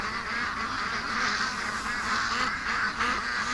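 A flock of ducks on a property near a lake and creek keeps up steady, repeated nasal quacks, several birds calling at once at moderate distance.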